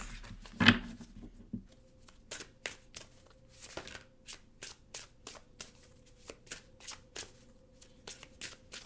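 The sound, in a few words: shuffling Wisdom of Tao oracle cards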